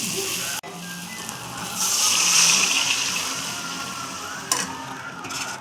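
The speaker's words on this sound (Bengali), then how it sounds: "তো তেল ছেড়ে দিয়েছে মশলা থেকে, এখন আমি জল দিয়ে দেবো।" Water is poured into egg curry masala frying in oil, setting off a loud, rising hiss and sizzle mid-clip over a steady background of frying, with a sharp knock near the start and another near the end.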